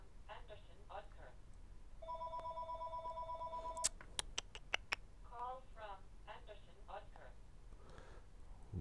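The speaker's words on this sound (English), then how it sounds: "Why is the phone ringing at this time?" Telephone ringing in a Mount & Blade Warband mod, World of Ice and Fire: a sustained electronic ring tone followed by a few sharp clicks, with someone talking before and after.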